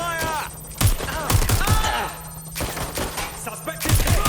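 Bursts of gunfire in Watch Dogs: Legion, several sharp shots in quick clusters over a steady hum and game music, with a voice speaking intermittently.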